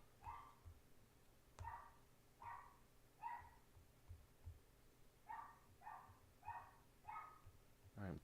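A pet dog barks in short repeated bursts at moderate distance indoors during a home livestream, with a low steady hum beneath the barks.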